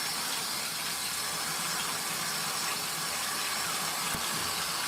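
Water rushes steadily into an LG ThinQ MEGA Ultimate washer during a pre-wash fill, a constant loud hissing gush with no pauses and no voices.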